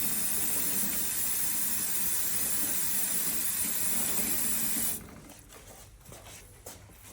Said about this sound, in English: First of all, we spray into the back of the chain where the rubber O-rings are.